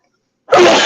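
A single loud, close sneeze bursts out abruptly after half a second of silence and fills the rest of the moment.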